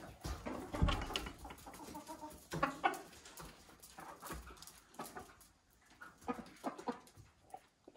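Hens clucking and calling as they are let out of the coop during morning animal chores, a busy scatter of short clucks at moderate distance with no talk.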